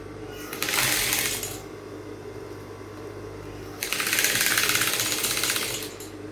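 Sewing machine stitching down boning on a Victorian corset blouse, two bursts of fast rattling stitching, a short one and then a longer run, with a low motor hum between them.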